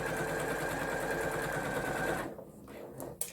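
A sewing machine runs steadily as it stitches along to the corner of a collar sample, then stops and leaves quieter handling noises.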